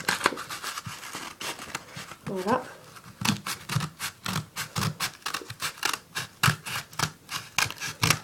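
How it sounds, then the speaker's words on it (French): Scissors snip through the paper wrapping of a 10-shot Junon firework cake in quick, crisp repeated cuts with crinkling paper, close by, while someone talks briefly partway through. "je vais tout couper. Avec des ciseaux."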